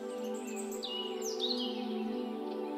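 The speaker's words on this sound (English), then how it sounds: "But you can hear the sounds of the distant birds." Distant birds singing in a quiet, peaceful meadow, with faint chirps and brief high calls drifting over a steady hum of background tones.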